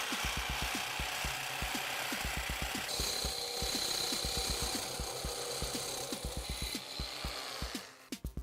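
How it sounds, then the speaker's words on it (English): A jigsaw fitted with a metal-cutting blade saws through metal in a fast, steady rhythm of sharp reciprocating strokes with a ringing, high metallic whine, continuous and close until it stops abruptly near the end. "Here I'm using a metal blade. This is specifically for cutting through metal with ease."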